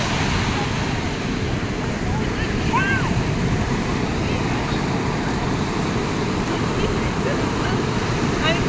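Sea waves wash continuously onto the shore at Daris in Oman, a loud broad rush of surf mixed with wind buffeting the microphone, while faint voices and shouts carry over it.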